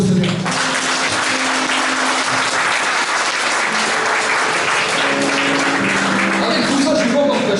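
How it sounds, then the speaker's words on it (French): A church congregation bursts into loud, sustained applause that stays dense and even from start to finish, with voices rising faintly through the clapping. "Acclamons pour le Seigneur."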